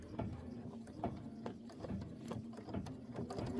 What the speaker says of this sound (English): I'm going to slide my hoop back on, and we're going to do that decorative stitch